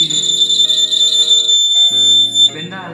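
Continuous electronic alarm tone from an earthquake shaker experiment at an engineering day demonstration, loud and steady throughout with a shifting pitch pattern and faint voices underneath.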